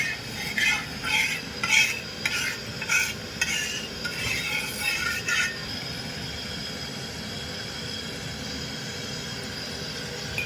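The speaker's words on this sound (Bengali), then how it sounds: "তেলটা আমি ভালো করে তাওয়াটাকে গুলিয়ে দিচ্ছি" Oil is spread and scraped across a hot tawa griddle, with rhythmic rubbing strokes over a soft continuous sizzle that goes on alone after the strokes stop.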